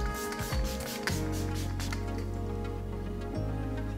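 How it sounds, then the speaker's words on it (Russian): Facial mist spray hisses onto a face in a few soft, fine bursts near the microphone, under a steady low background hum. "Очень мелко он выпускает этот спрей."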